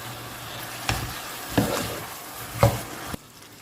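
Onions and tomatoes for masala bhindi fry steadily in a pan, a soft continuous sizzle broken by a few louder stirring scrapes near the front, with no talking.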